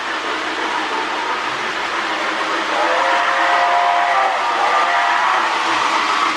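A Lionel postwar 2046 Hudson model train motor runs along the track with a dense, steady mechanical whir and rumble, close and loud, with no talk.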